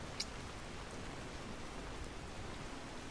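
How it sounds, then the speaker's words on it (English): Steady rainfall in the video game Skyrim, a faint, even hiss of rain with one tiny tick near the start and no voices. "With the rain always creeping."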